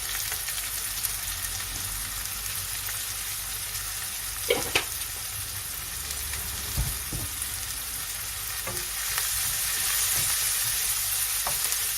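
Cockles fry in a pan with steady, even sizzling that lasts throughout, close and alone, with a few soft clicks and scrapes of stirring along the way.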